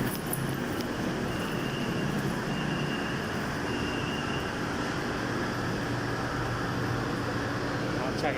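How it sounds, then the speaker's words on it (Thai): A Bangkok Gold Line sky train rumbles into the station amid a dense, steady roar of motors and air, with a voice talking over the noise. "รถไฟฟ้ามาแล้วนะครับตรงนี้"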